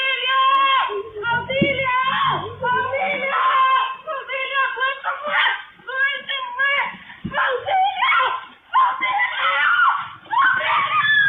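A woman screams repeatedly and frantically as she is robbed while walking home on the street, long piercing cries in bursts with brief gaps, loud and close.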